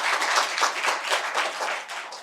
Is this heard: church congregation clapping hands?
yes